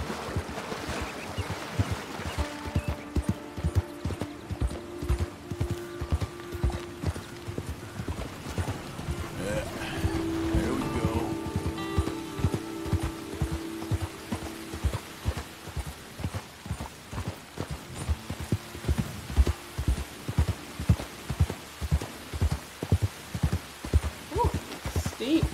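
Horses gallop in Red Dead Redemption II with a steady, rhythmic clip-clop of hooves throughout. The beat grows louder and more pronounced toward the end, with faint voices and tonal sounds underneath in places.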